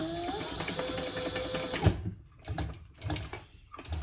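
A sewing machine runs in a fast steady stitching burst along a seam on a cork bag, then stops, followed by short start-stop pulses and handling noises, close by.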